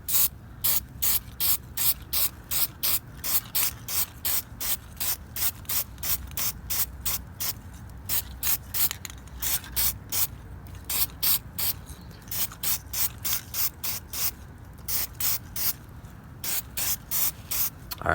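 Spray paint can coating an engine valve cover on a 1965 Scout 800 with a Comanche 152ci engine, heard as a long series of rapid, rhythmic short hissing bursts, fairly close, with no talking.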